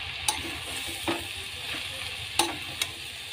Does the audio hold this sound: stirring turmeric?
yes